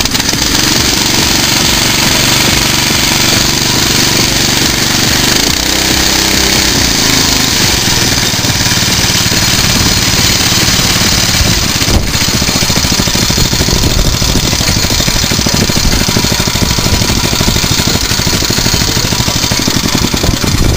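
A small minibike engine runs loud and close in a steady, harsh, buzzing drone for the whole stretch, with no voices.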